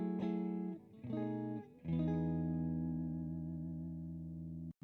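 A Suhr Classic S electric guitar played through the neck and middle pickups with a mellow, warm tone, a few changing chords ringing out, then one sustained chord fading.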